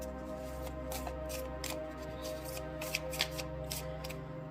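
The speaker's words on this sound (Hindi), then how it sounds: "यहाँ पे अब मैं निकालूंगी आप लोगों के लिए 5 कार्ड्स अभी का देखने के लिए" Tarot cards being shuffled and drawn by hand, a steady run of papery riffling and flicking bursts with a couple of sharper snaps near the end, close up over low background hum.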